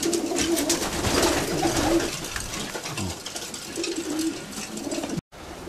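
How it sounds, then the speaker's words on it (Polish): Pigeons in a breeding loft in Jüchen, Germany, a dense chorus of soft overlapping coos and wing rustles, close and continuous, with a brief handling bump near the end. "Zobaczmy, żeby te gołębie nie wyleciały."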